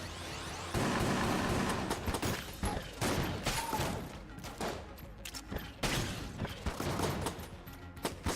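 The Icebreaker gun fires in the video game Enter the Gungeon, a dense, rapid stream of loud shots and impacts with brief gaps, punctuated by occasional booms throughout.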